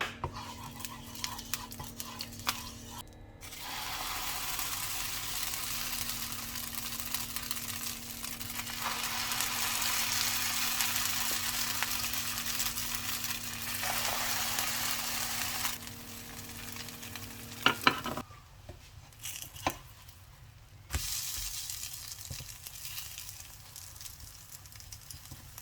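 Onions cooking in olive oil in a pan give a continuous soft sizzle and crackle. A few brief clicks and utensil knocks sound near the end, and no one speaks.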